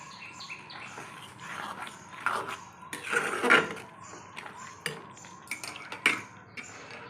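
A spoon clinks and scrapes around a pot of sweet potato payesh with sugar and batasa, giving irregular metallic taps and stirring rubs close by with no talking.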